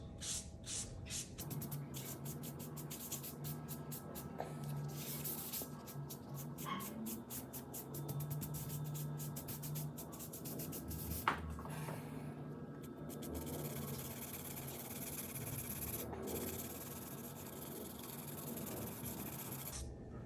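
Compressed charcoal scraping steadily across sketchbook paper, a faint, continuous dry rasp with broken rhythmic strokes, heard up close and alone.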